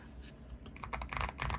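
A quick, quieter run of key taps on a stock Wooting 80HE mechanical keyboard, building into a brief cluster of close clacks over a faint background hum.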